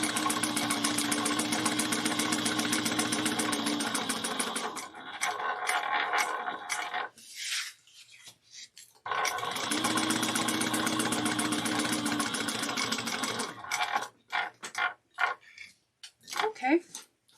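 A sewing machine backstitches the seams of a folded Kandu bag pocket, its motor whirring in two steady runs of several seconds each, separated by a short pause and followed by scattered clicks and handling noises.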